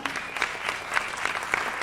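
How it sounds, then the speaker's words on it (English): An audience applauds at a local awards show, with steady, dense clapping held at moderate volume through a short stretch and no voices breaking through. "That deserves a round of applause."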